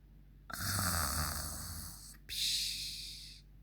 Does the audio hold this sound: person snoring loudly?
yes